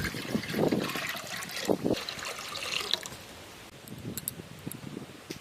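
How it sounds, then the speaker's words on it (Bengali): Water is poured into a clay pot set over a stove, splashing and gurgling in uneven bursts that taper to a thinner trickle. "হাঁড়িতে দিয়ে দেব জল।"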